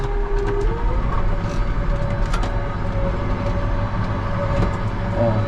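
A tractor pulling a fertilizer spreader across a field, sowing fertilizer for maize and oats. The engine drones steadily and close, with a continuous broadband mechanical roar, and no talk is heard.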